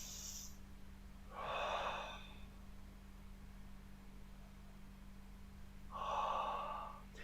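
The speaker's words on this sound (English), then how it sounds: "I'm breathing in and out. I'm only breathing out through the mouth." Belly breathing with exhalations pushed out through the mouth, two slow airy breaths a few seconds apart, close and soft over a steady low background hum.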